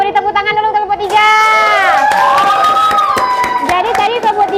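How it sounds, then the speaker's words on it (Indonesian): Students in a classroom clap for a presenting group, sharp handclaps breaking out after a stretch of voices, with excited children shouting and chattering over the clapping. "Ayo beri tepuk tangan dulu kelompok 3."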